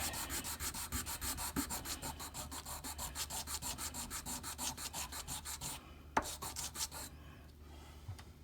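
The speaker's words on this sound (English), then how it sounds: "it's coming out pretty nicely just with a very little bit of sanding" Rhythmic rubbing strokes of sandpaper on a wooden estate pipe, fast and even, close up, pausing briefly near the end before a few more passes.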